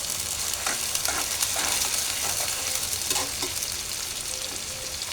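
Ginger paste fries and is stirred in a pan for a spiced liver bhuna, giving a steady, dense sizzle with occasional spatula scrapes, close and continuous with no talking.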